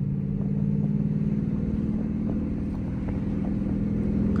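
Dodge Charger RT drifting, a loud continuous low engine drone held steady at close range with faint tire noise over the top.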